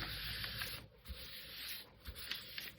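A hand smooths a sheet of Japanese rice paper onto a dollar store table mat, giving soft rubbing strokes, steady brushing with brief pauses, close and quiet.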